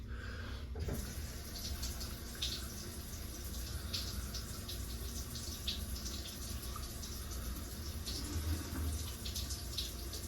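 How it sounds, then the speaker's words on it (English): Sink water pours out of a drain inlet and splashes onto the bottom of a floor drain, a steady, faint trickling and rushing flow that continues without a break. "So that's where the sink water is coming from. It's coming out, it's hitting the bottom, and it's actually flowing back this way."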